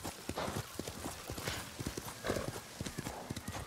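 Horse hooves clip-clop at a steady gallop while riding toward a lighthouse in Ghost of Tsushima. The rhythmic thuds are close and continuous, and a voice talks quietly under them.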